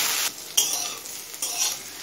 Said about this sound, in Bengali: এবার আলু আর ডুমুরটা কিছুক্ষণ ভেজে নেব।